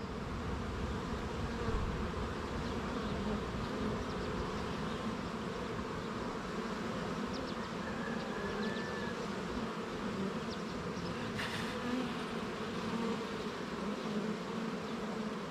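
Honeybees buzzing in an open hive during a cell starter build, a dense, continuous hum of many wings holding steady throughout, close and alone with no talking.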